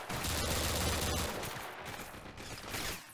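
Troopers in a video game fire on the player, and rapid bursts of gunfire crackle at a distance, dense at first and then thinning into scattered shots.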